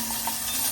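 Steak pieces for beef stroganoff hit a very hot pan, giving a loud, steady, broadband sizzle with no voices.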